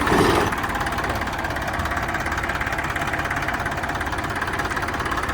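A Massey Ferguson 241 tractor engine runs at a steady idle nearby, with a continuous low knocking diesel rumble and a slightly louder start before it settles into an even throb.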